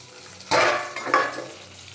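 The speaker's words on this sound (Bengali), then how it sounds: "দেখো অল্প তেলের মধ্যে এইভাবে ভেজে নিতে হবে" Food frying in a small amount of oil in a pan, a sudden bright sizzle burst followed by a second flare and softer crackling, close and moderate in level.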